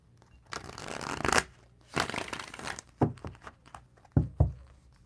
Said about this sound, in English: Let's give a quick shuffle for you with the tarot.